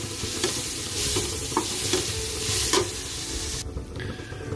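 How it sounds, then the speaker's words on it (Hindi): Fenugreek frying in a pan for kadhi, a dense continuous sizzle with a few sharp scrapes of a spoon stirring, close and fairly loud, no talking. "देखिए दोस्तों ये जो है मेथी अच्छे से भुन गई है, और मतलब अच्छे से फ्राई हो गई है ये"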